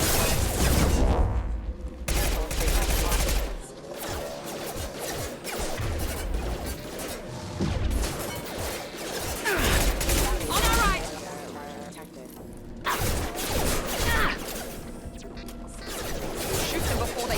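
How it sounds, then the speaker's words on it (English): In Mass Effect 2, defense system gunfire rattles in dense bursts alongside heavy crashes and impacts. The battle noise is loud and continuous, and game dialogue speaks over it. "Hear that? Sounds like defense attacks."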